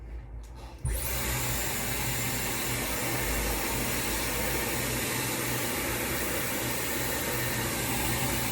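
A Dyson hair dryer switches on at full fan and full heat with a sudden onset, then holds a loud, steady airy rush without a break.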